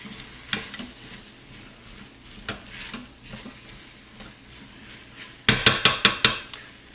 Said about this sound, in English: Just going to stir that in.